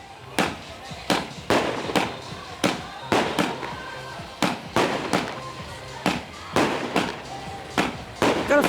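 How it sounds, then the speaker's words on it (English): Fireworks going off late at night in Sunny Beach, Bulgaria: a rapid series of loud, sharp bangs, roughly one per second, each cracking and fading before the next, with faint crowd noise underneath. "There's fireworks all the time going off late at night."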